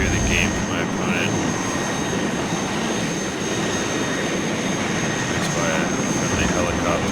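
A military helicopter in the real-time strategy game WARNO gives a loud, steady, broadband roar of rotor and turbine that fills the whole clip, with someone talking briefly over it.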